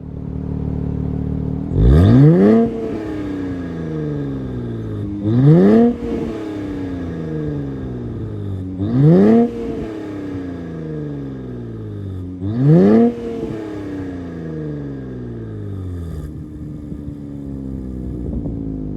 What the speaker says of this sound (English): since we got functional dual exhaust and this is a Nissan Z, let's see what she sounds like